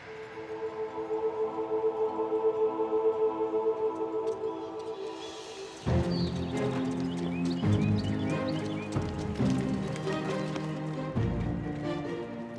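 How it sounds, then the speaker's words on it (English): Three donkeys walking lead a caravan route, their hooves clip-clopping in an uneven patter that begins faintly under music and grows clearer and closer in the second half. "the 3 donkeys lead the way"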